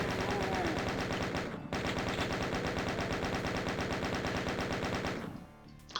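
Chaingunner enemies in DOOM fire continuous rapid bursts of machine-gun shots, dense and loud throughout before tapering off at the end.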